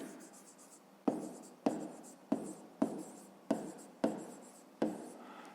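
Handwriting during a math lesson: a pen or marker scratching across a surface in seven short strokes, each starting with a tap and fading, close and fairly quiet, with no talking.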